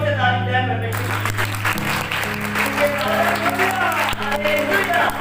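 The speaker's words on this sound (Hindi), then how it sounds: "जोर से ताली दे परमेश्वर की।" A church congregation claps together in a burst of applause that swells and carries on steadily over a sustained keyboard or organ tone, with a voice calling out over the room.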